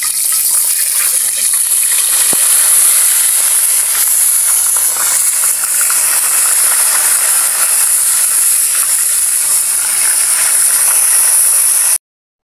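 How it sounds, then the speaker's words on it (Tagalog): Bulos fish frying in a pan give off a loud, steady hiss and sizzle that continues without a break, then cuts off abruptly near the end. "Prituin muna natin yung ating isda. Piprito na po tayo."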